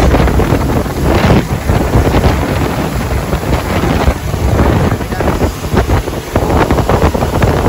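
A speed boat runs flat out at sea on a trial run, with a loud, constant roar of engine and rushing water under heavy wind buffeting on the microphone.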